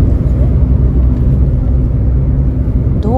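A car driving along a road near Ibara in Okayama, Japan, heard from inside as a steady, loud low rumble of engine and tyres, with no pauses and no voices.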